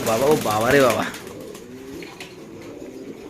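A warbling, wavering coo rises and falls for about a second, then fades into quieter background noise with faint low murmurs.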